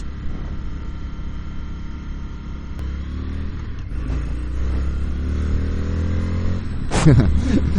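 An Indian FTR motorcycle accelerates hard down a straightaway, the engine note climbing through the gears under steady wind roar, loud and close from the rider's position.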